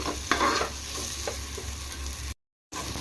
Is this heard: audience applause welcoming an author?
no